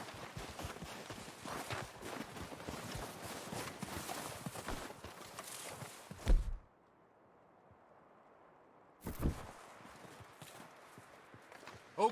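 Horses in Red Dead Redemption 2 clip-clop steadily and close through the first half, cut off by sudden silence, then return briefly after a loud thump.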